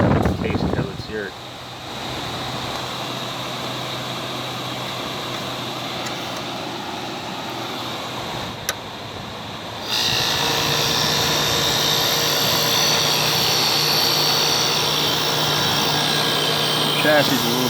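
A 1978 Kelvinator (Gibson) 7900 BTU window air conditioner fan running on high, a steady loud whooshing hum that steps up louder partway through, with someone talking over it at the start.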